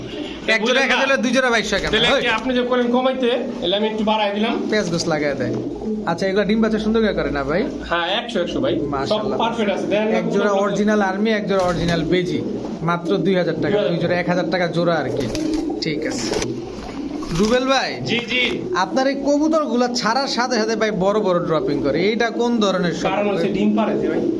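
Saharanpuri pigeons coo at a pigeon farm, soft repeated cooing running through the whole stretch beneath steady, continuous talk in the foreground.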